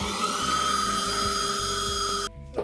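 An electric mixer whirs loudly and steadily through cheesecake batter of cream cheese, sugar and sour cream, a continuous high motor whine that cuts off abruptly near the end, leaving a brief quiet tail.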